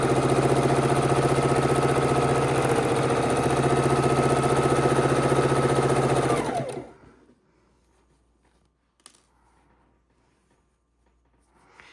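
A sewing machine chain stitching half-square-triangle quilt pieces into a scrap quilt top, running in a steady close whirring hum for about six seconds before stopping abruptly, followed by quiet with a few faint clicks and handling noises.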